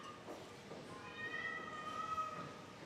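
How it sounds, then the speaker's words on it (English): A cat meows faintly in the background, with two drawn-out, high mews over low room noise and quiet murmuring. "There's a cat in the background."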